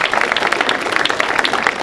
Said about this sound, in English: do you think that the staff deserves a round of applause for that food?